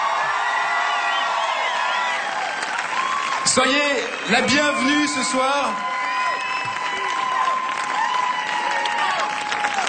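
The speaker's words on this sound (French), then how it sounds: "On applaudit très très fort" A festive outdoor crowd on the square before Notre-Dame de Paris applauds and cheers loudly and continuously, with a surge of whoops around the middle, while an announcer speaks over the clapping through a PA.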